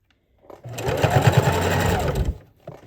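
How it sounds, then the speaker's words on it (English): A sewing machine runs in one short, close burst of rapid whirring stitches while closing the opening of a fabric bowl cozy, starting and stopping cleanly. "Now we have sewn that opening closed."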